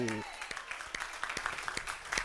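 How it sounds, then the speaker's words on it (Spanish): Congregation clapping during a Pentecostal church service, a short, fairly faint burst of scattered claps following a brief voice at the start. "Den un aplauso y digan amén."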